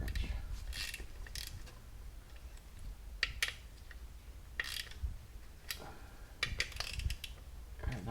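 Ratcheting clicks and metallic tool handling come from a torque wrench on transmission bolts of a 2014 Ford Focus ST, with short bursts of clicking separated by quiet pauses, close and fairly faint.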